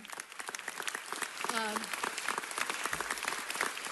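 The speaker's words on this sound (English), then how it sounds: "could we just take a minute to applaud Anita Hill?" Audience applause at a public event: soft, fairly distant clapping from a crowd, mixed with a brief voice or tonal sound partway through, sustained at a low, even level.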